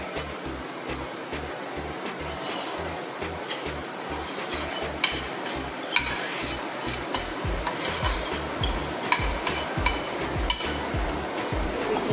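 Powdered sugar is stirred into wheat flour in a bowl, a dry rhythmic scraping and rubbing close by that repeats steadily throughout with a few sharper knocks.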